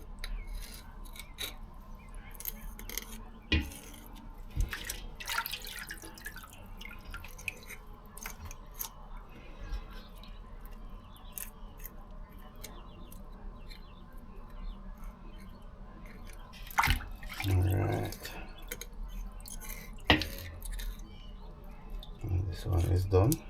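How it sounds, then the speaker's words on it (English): Fish scales are scraped off over a kitchen sink, giving short irregular rasping strokes and clicks at close range, with scattered knocks and louder bursts toward the end. "because I know how to scrape fish"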